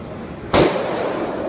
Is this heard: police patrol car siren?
no